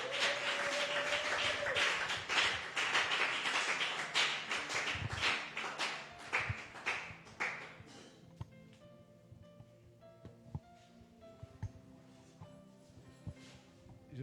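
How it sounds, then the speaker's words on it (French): A church congregation claps loudly and steadily in praise of the Lord, dense applause for about eight seconds before thinning into scattered, sharper claps and taps. "Alors nous acclamons le Seigneur"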